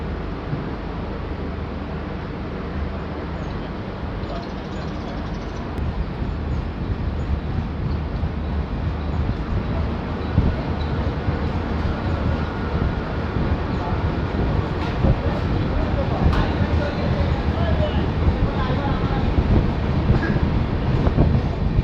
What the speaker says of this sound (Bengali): কিছুক্ষণ দাঁড়ানোর পরই কোকড়াঝাড় থেকেও ট্রেন ছেড়ে দিয়েছে